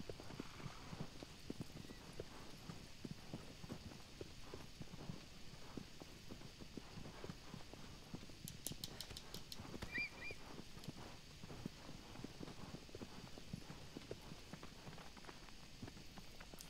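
Horse hooves clip-clop in a steady, rapid rhythm while riding across open ground in Shadow of the Colossus, faint and continuous under a low background wash.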